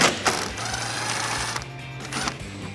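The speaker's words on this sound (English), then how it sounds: "grab your 10mm socket and let's get these 2 bolts holding on your headlight removed" A 10mm socket wrench ratchets out the headlight bolts on a 2013-2018 RAM 1500 pickup, giving quick close clicking over a steady hum, with a few sharper knocks.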